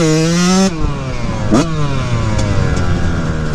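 A YZ144 dirt bike fitted with a thumb throttle revs hard at full throttle, a loud, close engine wail that drops sharply after a brief peak and then settles into a steady, rough drone.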